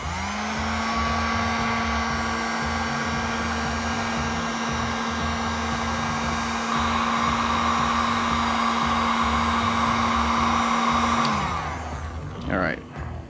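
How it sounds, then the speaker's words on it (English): A heat gun blows a steady, loud hum while warming a polymer holster over a cork board, running continuously before cutting off near the end, with a brief rustle afterward. "I'm just going to use my heat gun that I got"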